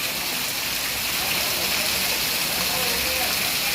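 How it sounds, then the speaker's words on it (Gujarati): Heavy monsoon rain in Rajkot, Gujarat, pours down in a dense, constant hiss, loud and unbroken throughout with no pauses. "રાજકોટમાં જોરદાર વરસાદ"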